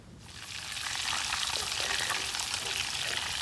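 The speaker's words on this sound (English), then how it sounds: "draining the bacon fat into a Pellegrino can. And it is sizzling." Hot bacon fat drained into an aluminum Pellegrino can at a van camp, sizzling and crackling loudly and continuously as the flow builds, close up, with no talking.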